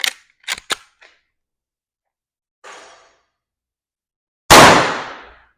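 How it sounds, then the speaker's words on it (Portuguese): One loud, sharp gunshot from a 24-inch carbine fires near the end and rings out briefly, after a few small mechanical clicks and a soft rustle of handling. "Primeiro disparo da carabina 24 polegadas."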